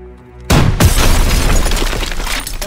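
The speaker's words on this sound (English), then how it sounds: "Daniels, we need that launcher again. Watch the backblast." A rocket launcher fires in Call of Duty WW2 with a sudden loud boom after brief quiet, followed by a rumbling blast that lingers and slowly fades.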